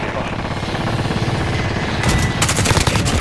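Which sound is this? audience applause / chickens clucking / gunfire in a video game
gunfire in a video game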